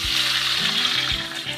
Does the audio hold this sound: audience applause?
no